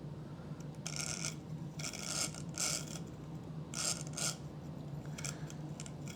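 A 1976 Hall Class model locomotive strains to run, a faint steady motor hum cut by repeated bursts of gritty grinding and rasping from the gears.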